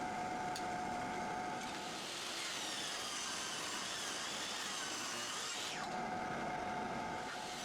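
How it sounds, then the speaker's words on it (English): Power saw ripping walnut boards into strips for cutting boards, a steady high whine that rises as the blade bites into the wood, then drops away near the end. "I'm cutting up the rest of the wood in widths that I pre-decided on the computer."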